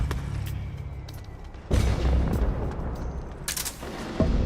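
Gunfire from the Metal Gear Solid 4 video game, with loud, close, repeated bursts and booming shots in a chaotic battle, the firing continuous across the clip.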